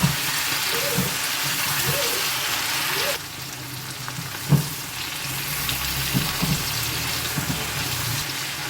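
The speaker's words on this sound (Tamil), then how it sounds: "இந்த எண்ணெயில் போட்டுக்கலாம் வெங்காயம் நல்லா செவந்து வந்துருச்சு" Onions fry and brown in hot oil in a pan, a steady close sizzle broken by a few soft stirring knocks and clinks, with no talking.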